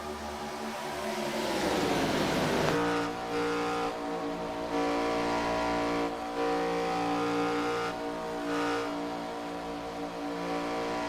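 ARCA race cars roaring past at Talladega Superspeedway, a loud rising and falling drone as the pack sweeps by, followed by sustained engine noise with pulsing surges from several cars.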